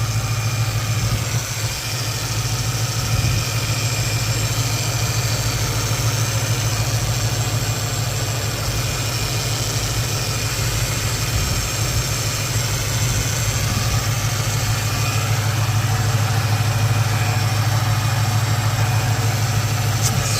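An Infiniti M45 with its VK45DE V8 idles steadily up close, a constant low rumbling hum with a faint whine above it, unbroken for about twenty seconds and free of talk.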